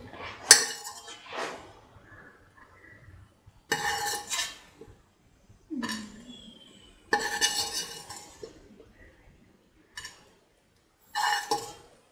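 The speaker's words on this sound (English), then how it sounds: "Now these can be taken off the pan onto the plate." Food is scraped from a pan onto a plate while making a sweet coconut milk wheat soup, giving a series of separate metallic clinks and scrapes of utensil on cookware, with short pauses between.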